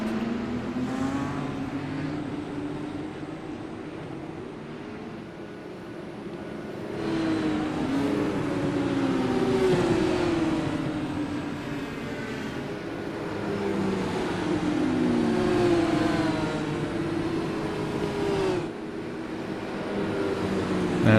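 Race cars in an Indy-style racing game roll off behind the pace car, their engines droning and rising in repeated revving sweeps, loud and continuous throughout with no voices.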